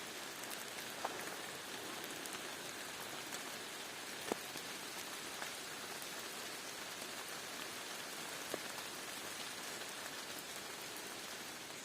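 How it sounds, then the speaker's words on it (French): Heavy rain falls steadily during a hike in the Corrèze countryside, a dense continuous patter with a few louder drops landing nearby. No voices are heard. "Sauf que il pleut un peu fort."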